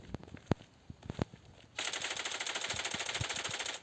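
Rapid automatic gunfire from a video game, first a few scattered single shots and then a dense, continuous burst of machine-gun fire running to the end, fairly loud with no talk.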